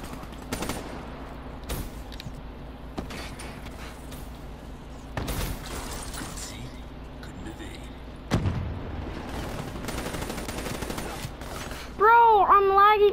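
Sporadic gunfire in Call of Duty 3, including shotgun blasts, comes as scattered sharp shots and short bursts over a low continuous game rumble, with a warbling electronic sound near the end.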